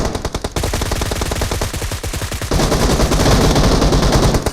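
Rapid bursts of automatic gunfire in a battle royale video game, loud and close, one burst stopping briefly before a denser, louder stretch of continuous firing, with no voices.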